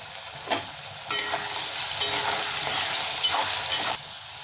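Potato pieces frying in hot oil seasoned with turmeric and salt, a steady crackling sizzle with a few sharp stirring clatters, close and continuous.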